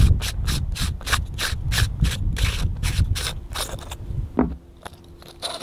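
Threaded rear cap of a Dead Air Mask HD .22 suppressor being unscrewed by hand, a close series of rhythmic rubbing, scraping metal-thread strokes, about a dozen turns, then a few softer clicks and handling noises.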